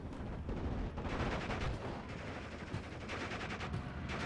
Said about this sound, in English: So the Focke-Wulf 190 coming in with the strafing run onto the M4A1